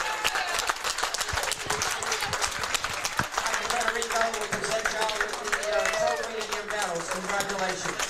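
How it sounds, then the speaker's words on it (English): A crowd at a high school bowling championship awards ceremony applauds the runner-up boys' team, with steady clapping throughout and voices talking over it. "Getting applauded"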